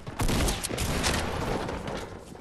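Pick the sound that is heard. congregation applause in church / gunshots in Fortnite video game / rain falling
gunshots in Fortnite video game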